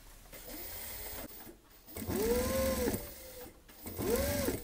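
Sewing machine stitching the lacing panel at the back of a corset, three runs of rapid mechanical whirring with short pauses between them, close and fairly quiet.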